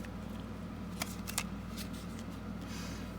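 Tarot cards shuffled by hand in a few short, crisp riffles clustered near the middle, close and fairly soft over a steady low background hum.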